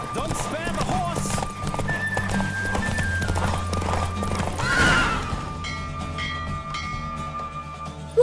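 In The Witcher 3: Wild Hunt on PlayStation 5, a horse races along with fast, continuous hoofbeats and a neigh near the middle before the galloping fades toward the end.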